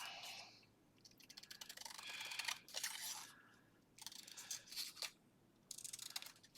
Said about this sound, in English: We'll just cut this one out.